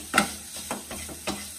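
Pumpkin halwa with sugar cooks in a pan under a quiet sizzle, while a spoon scrapes through it in a few soft, uneven strokes, close by and without speech.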